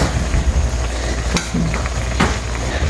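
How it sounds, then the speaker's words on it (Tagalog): Squid adobo with chili being stirred in a pan, a steady sizzle of frying with a couple of sharp clacks from the utensil against the pan, close and continuous. "Haluin lang natin ng konti"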